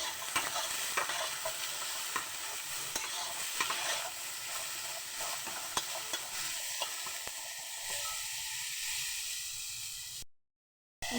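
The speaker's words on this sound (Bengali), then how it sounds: "গ্যাসের ফ্লেমটা কমিয়ে দিয়ে ভালোভাবে ঢেকে ঢেকে ভেজে নিচ্ছি বিমসুটিটা" Bimsuti bean pods frying covered in a pan over a low gas flame, a steady soft sizzle with occasional stirring clicks, fairly quiet and close, then a brief silence near the end.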